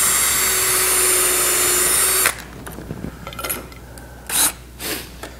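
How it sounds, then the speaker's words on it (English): A drill with a self-centering bit bores a screw hole for a wooden hinge, a loud, steady whine of about two seconds that stops abruptly, followed by faint handling knocks and short rubbing scrapes. "Set your hinge in, fold it down tight,"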